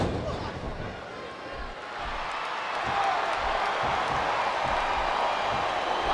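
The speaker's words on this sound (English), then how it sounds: "It sounds like this capacity crowd has something on their minds" An arena crowd in the WWE SmackDown vs Raw 2007 wrestling game, recreating a No Mercy 2005 match between Randy Orton and The Undertaker, makes a steady, swelling roar beneath commentators talking, with thuds from the ring.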